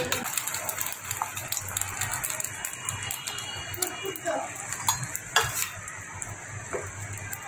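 Beaten egg frying on a griddle, a steady sizzle mixed with repeated scraping and metallic clinks of a utensil against the pan, fairly close.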